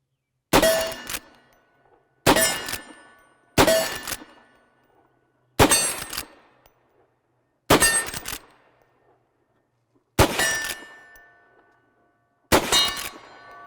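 Henry Big Boy All-Weather lever-action rifle in .357 Magnum firing seven sharp, loud shots at irregular intervals of one to two seconds, each with a short decaying echo, no voices.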